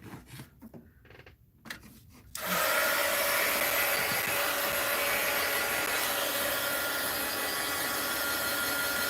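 A hair dryer blowing steadily on a mixed-media art journal page, starting abruptly after a couple of seconds of quiet handling noises and then holding a loud, constant whooshing roar up close.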